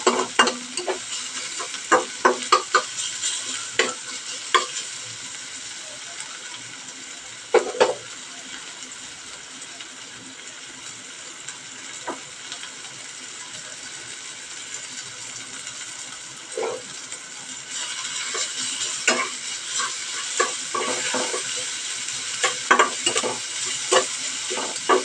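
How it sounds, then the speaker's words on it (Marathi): Onion and tomato fry in oil in a pan and are stirred. A continuous soft sizzle runs throughout, broken by repeated scraping clicks of the stirring spoon, some louder near the end. "मला कमी वाटलं म्हणून मी थोडंसं टाकते तेल। थोडंसं लाल करू ह्या कांदा टोमॅटो"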